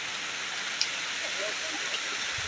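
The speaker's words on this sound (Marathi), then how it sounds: "मस्त पाऊस पडतोय" Rain falls steadily on farm fields at the foot of a hill, a continuous even wash of hiss with a couple of faint drip ticks and no clear voices.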